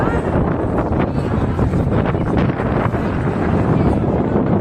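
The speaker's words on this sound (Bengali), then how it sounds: "প্রচণ্ড বাতাস" Strong wind buffets the microphone in loud, rumbling gusts without pause, outdoors in Portugal.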